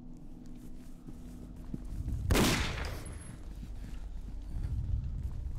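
Gunfire in the video game Condemned: Criminal Origins: a single loud, sharp blast stands out from a low rumbling background, followed by a lingering muffled tail.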